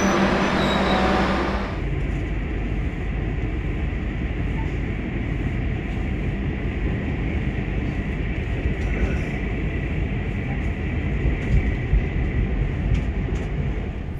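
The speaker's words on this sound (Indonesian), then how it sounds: "perjalanan kereta api Malabar yang saya naiki sudah diberangkatkan dari stasiun Kroya" Aboard the Malabar passenger train in Indonesia after leaving Kroya station, a steady low rumble and rolling roar of the carriage on the rails, with faint clicks and rattles, continuous and close.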